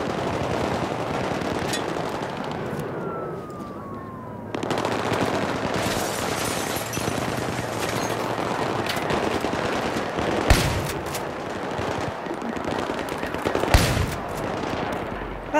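Battlefield 3 campaign gunfire rattles in sustained automatic bursts with scattered sharper single cracks, loud and dense over the whole stretch, with almost no talking.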